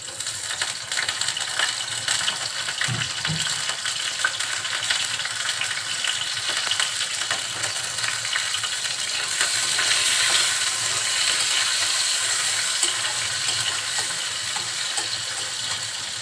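Salted prawns sizzle in a hot pan for a home-style green banana and prawn curry, a steady, close frying hiss with occasional light clinks and stirring.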